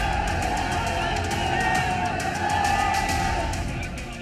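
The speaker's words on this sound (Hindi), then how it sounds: "जबरदस्त भीड़ और हर तरफ इस्लामिक नारों से पूरा ग्राउंड गूंज उठा" A huge crowd at a rally ground, continuous dense roar of many voices with cheering and shouted slogans, loud and steady throughout with no quiet gaps.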